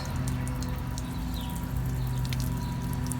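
Water rinses over a 1975 Schwinn Chicago Varsity bicycle during restoration, a steady soft spray with scattered drips and splashes that runs continuously under a low background hum.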